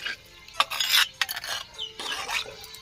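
A spoon stirs Chettinad-style fish curry in a pot, making close, bursty scraping and clinking strokes against the metal in quick succession with no voices.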